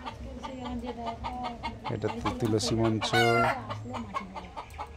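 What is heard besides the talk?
chickens clucking while foraging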